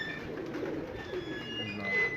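Pigeons kept by a fancier in Kasur coo softly, a low murmuring warble close by against a faint background hum.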